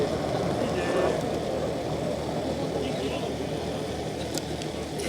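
Swiss Air Force F-18 jet flying slow and nose-high at high angle of attack during an airshow, a steady broad engine roar held at even loudness throughout, with the crowd and announcer talking over it.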